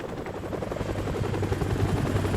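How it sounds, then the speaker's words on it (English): A helicopter flies over a dark wheat field with its searchlight sweeping, a steady low rotor rumble that slowly grows louder in Call of Duty Modern Warfare Remastered. "helicopter flies over and the high beam is searching in the field"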